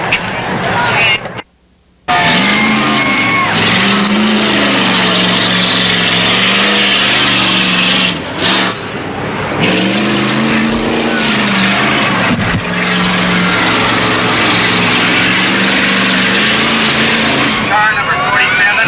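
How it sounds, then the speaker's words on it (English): A 1985 demolition derby race car roars loud and close through a time trial at Moses Lake, the engine revving and shifting pitch steadily with a brief dropout near the start, while an announcer talks over it. "there's our first time trial. Car number 7."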